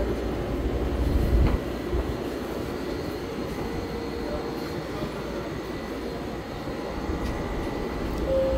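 A driverless, computer-run Vancouver SkyTrain at King George station gives a steady, moderately loud rumble that holds for the whole stretch, with a brief louder swell early on and a faint tone near the end.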